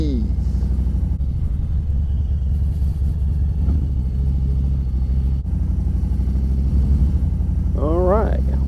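A 2024 Harley-Davidson Softail Standard motorcycle rolls slowly in circles, a steady low V-twin rumble close by with brief revs, while someone talks over the engine.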